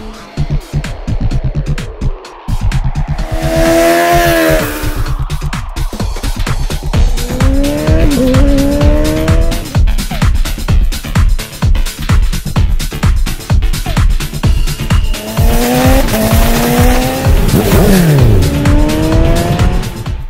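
Onboard ride on a Honda CBR650R motorcycle: the engine revs up and down in rising sweeps through the gears, loud and close, with steady wind rush and no talking.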